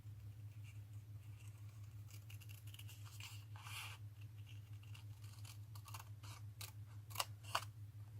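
Paper card pieces being cut out with scissors, giving a series of soft snips and rustles over a steady low hum, with a couple of sharper clicks near the end.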